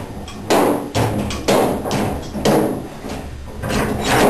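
Large socket wrench on a bolt, heard as a series of repeated ratcheting and grinding pulls with thuds at the start of each stroke, close and loud, without speech.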